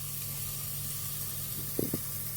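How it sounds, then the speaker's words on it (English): Onions and garlic cook in a pan with a soft, steady sizzling hiss, broken near the end by two brief louder crackles, no voices present. "So the onions and the garlic is cooking at the moment."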